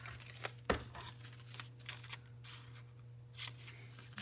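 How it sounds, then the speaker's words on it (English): Scissors cut an unsewn paper journal signature in half, a few sharp close snips and slides of the blade, separated by quieter paper handling, over a faint steady hum. "I think what I'm gonna do is just cut it in half."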